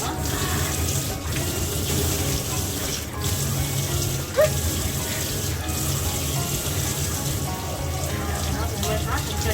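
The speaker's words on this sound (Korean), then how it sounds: "샤워기를 그대로 몸에 뿌려주세요" A shower head sprays water steadily over a dog being bathed, a continuous close hiss with a brief louder splash midway and no talking.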